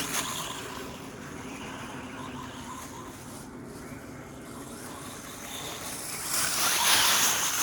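A Wltoys 124017 V2 RC car ploughs through thick leaves and rough backyard ground, making a continuous dense rustling, crunching roar that swells louder near the end.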